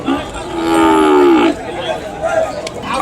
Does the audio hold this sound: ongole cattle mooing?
yes